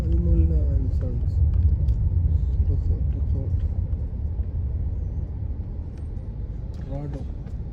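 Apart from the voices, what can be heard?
slow-moving road traffic in Doha, Qatar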